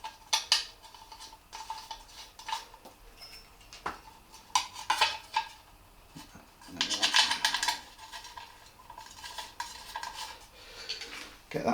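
Allen head bolts being fitted and tightened on a Triumph Scrambler 1200 exhaust, with scattered metallic clicks, taps and tool scrapes, close and fairly quiet, in irregular bursts with a busier stretch midway.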